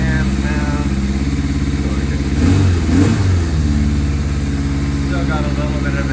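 A 1981 Suzuki GS850G motorcycle engine running on choke after a cold start, a close, loud, steady idle with a faint rise in revs partway through.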